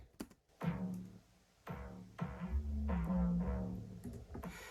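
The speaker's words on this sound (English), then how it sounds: "Super gritty, super dark." A distorted, gritty, dark synth bass plays a series of heavy low notes with attacks that decay, building into a dense buzzy line near the end, with no talking.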